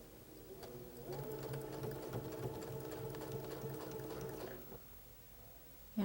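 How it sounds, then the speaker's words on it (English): A domestic sewing machine chain-stitches quilt fabric triangles, its needle running in a quick steady rhythm for about four seconds before stopping, close and moderately quiet with no talk over it. "See how nice it is to chain sew?"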